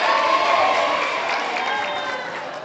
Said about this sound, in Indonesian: Tepuk tangan buat Ustadz Usman